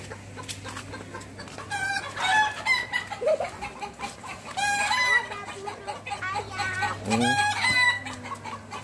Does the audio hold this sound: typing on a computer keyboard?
no